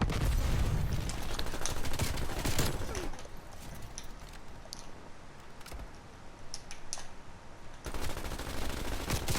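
LC10 submachine gun bursts in Call of Duty Cold War, loud rapid fire with clattering shots and game effects throughout, ending with a strong final burst.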